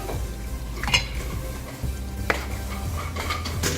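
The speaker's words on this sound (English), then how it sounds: "Just mix the spaghetti in." Spaghetti mixed into sizzling vodka sauce in a pan, with a continuous close sizzle broken by a few sharp clinks and scrapes of a utensil against the pan.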